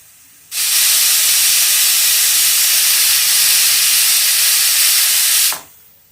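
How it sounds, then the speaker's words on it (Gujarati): A pressure cooker cooking broken wheat for fada lapsi lets out one loud, sustained steam whistle-hiss lasting about five seconds, starting and stopping abruptly, close by and alone. "ત્રણ થી 4 સીટી થઈ ગઈ છે"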